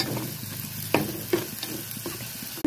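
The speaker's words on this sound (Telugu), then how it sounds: "ఇప్పుడు పసుపు వేసుకుని తిప్పేసుకుంటున్నాం" Onions, tomatoes, chillies and turmeric fry in oil with a constant sizzle while a spoon stirs, scraping the pan in a few sharp knocks.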